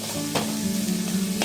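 Jackfruit and chicken fry in a pan in a Kerala-style home kitchen, giving a steady close sizzle. A couple of sharp scrapes from stirring break through it, and no one speaks.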